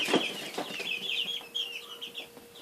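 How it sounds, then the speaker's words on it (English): Several chickens clucking together in a coop, with steady overlapping clucks and chirping calls close by and continuous, no talking. "And then here's even bigger chickens"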